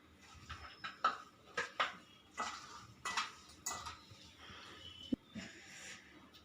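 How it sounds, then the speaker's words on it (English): Chopped vegetables are tossed and mixed in a bowl with a utensil, giving a string of light clinks, scrapes and taps in an uneven rhythm, close and fairly quiet. "Now mix all the vegetables."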